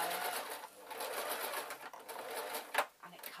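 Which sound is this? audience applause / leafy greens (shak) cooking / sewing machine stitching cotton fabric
sewing machine stitching cotton fabric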